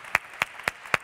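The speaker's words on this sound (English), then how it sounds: "So that's a first point to give him a round of applause." Four sharp, evenly spaced hand claps ring out close by in an otherwise quiet room at a youth business summit, sounding like the first few claps of a round of applause.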